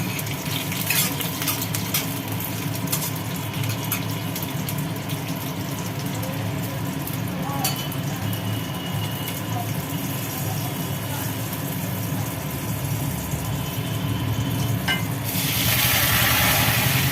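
A green chilli fries in hot oil in a pan while Bengali lentils are being tempered, giving a continuous close sizzle with occasional clinks and stirring of utensils.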